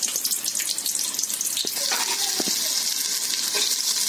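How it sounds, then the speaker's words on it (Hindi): Garam masala spices roast in hot oil with a dense, loud hiss and crackle that runs without a break, broken by a few faint knocks and no voices. "अब हम थोड़े से गरम मसाले तेल में भून लेंगे।"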